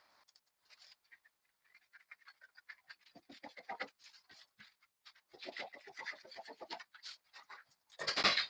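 Scissors cutting out a paper sleeve pattern for a homemade hoodie, giving close, intermittent rasping snips in uneven bursts that grow busier toward the end, with no talking.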